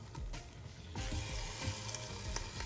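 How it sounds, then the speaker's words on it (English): A soft, steady sizzle of meat cooking in an air fryer, crackling faintly with a few clicks and clatter at the start. "Oh, you hear that sizzle?"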